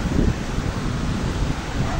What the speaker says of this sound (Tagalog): Ganda pakinggan ang alon ng dagat.